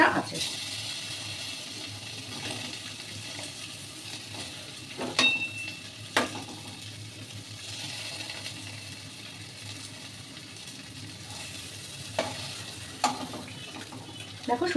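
Eggs frying in a pan, the yolk side turned down, give a steady low sizzle with a few sharp clinks and scrapes of a utensil scattered throughout.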